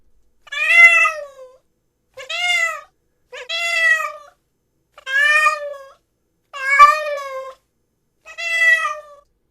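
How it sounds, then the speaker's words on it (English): A cat meows six separate times as a sampled clip, each call a clear, drawn-out tonal mew spaced evenly with short silences between, close and alone with no other sound. "this is a cat"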